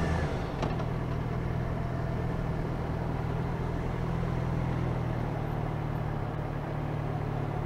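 A Mercedes-Benz C-Class car pulls away with a steady engine hum and low rumble. A brief click is heard at the start, and the drone stays even and close throughout.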